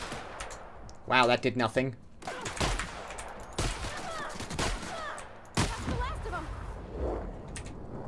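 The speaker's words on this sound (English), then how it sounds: "hooligans have machine guns" Machine gun fire from hooligans in The Outer Worlds sounds in sharp repeated bursts between stretches of talk, with one loud burst early and more shots scattered later.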